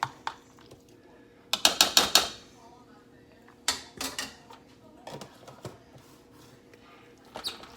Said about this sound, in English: And I'm going to stir that around.